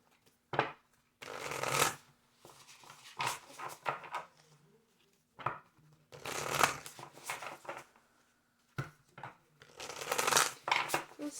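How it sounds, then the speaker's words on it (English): Tarot cards are shuffled by hand in a quiet room, with several bursts of riffling and flicking separated by short pauses, close and fairly soft. "Just two more shuffles."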